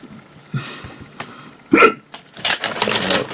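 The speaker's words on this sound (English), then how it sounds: "Hiccups." A single sharp hiccup sounds up close, with a few faint clicks and small handling noises of Lego building around it, and no talking.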